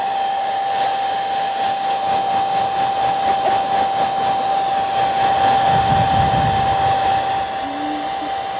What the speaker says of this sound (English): She loves the hair dryer.